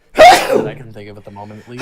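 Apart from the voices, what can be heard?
sneeze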